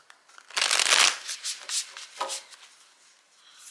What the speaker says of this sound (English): I love this deck, but it's kind of large for my hands, and I've been using it for long. I can still have problems shuffling it